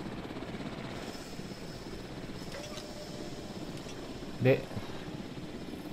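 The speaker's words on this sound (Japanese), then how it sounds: "上からそうヘリが来てね。" A helicopter descends from above in the Jurassic World dinosaur park game, its rotor drone a steady, fairly close whir throughout, with a voice briefly speaking near the end.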